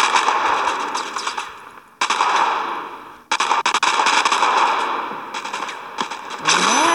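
Gunfire in the mobile shooter Modern Combat, several loud bursts of rapid automatic fire broken by short pauses, with a rising electronic tone at the end.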